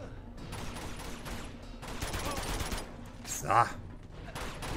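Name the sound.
AK assault rifle gunfire in Uncharted 2 video game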